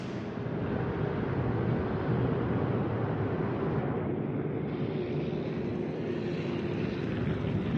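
A fighter plane flies in the World of Warships naval video game, a continuous broad engine drone with steady rushing noise holding at an even level throughout, with no voices over it.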